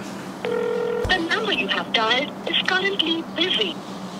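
A short, steady electronic phone tone sounds, followed by a voice talking over a faint background hum.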